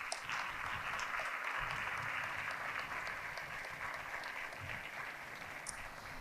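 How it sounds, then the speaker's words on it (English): Faint, distant applause from an audience at a high school senior honors and awards evening, an even wash of clapping that holds steady for several seconds. "if we could give our Walled Lake Western staff that is up here a round of applause"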